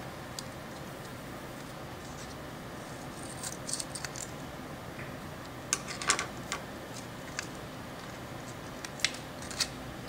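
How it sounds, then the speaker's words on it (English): Packet of effervescent tablets being cut open with scissors: faint, scattered snips and crinkles of the wrapper over a steady background hiss, with a few louder clicks near the end. "Carefully cut open the packet of effervescent tablets and remove them from the packet."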